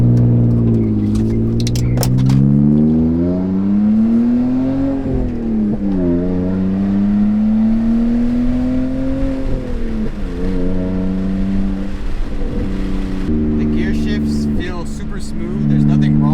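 A manual car's engine burbles through a slow U-turn, revs rising and falling in long sweeps with a few small pops, heard from inside with windows down and faint talk over it.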